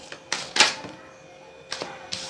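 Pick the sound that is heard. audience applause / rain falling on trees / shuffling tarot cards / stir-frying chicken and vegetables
shuffling tarot cards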